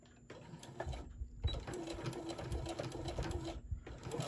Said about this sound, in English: And I'm going to sew straight down the side.